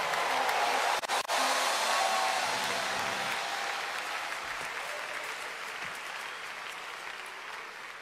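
Sustained applause from a large church congregation, steady and loud, slowly tapering over several seconds.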